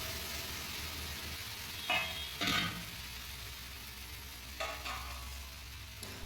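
Amboli rice batter sizzles softly as it is spread across a hot pan, a continuous quiet frying hiss with a few brief scraping swishes of the batter being spread.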